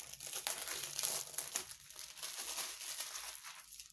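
Plastic shrink wrap being torn and peeled off a boxed Xbox copy of Kao the Kangaroo (2022), close continuous crinkling and crackling with uneven bursts, fading out at the end.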